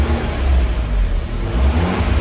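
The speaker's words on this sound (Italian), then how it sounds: "questo è il sound della macchina con le valvole chiuse" Fiat 124 Abarth engine running with its exhaust valves closed, a loud, steady, deep rumble close by with slight swells in intensity and no voices.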